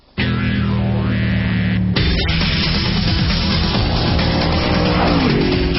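Spyker C8 Spyder sports car driving, with a loud, steady engine note that holds a constant pitch, then shifts through revs as it accelerates and slows, tyres audible underneath with no voices.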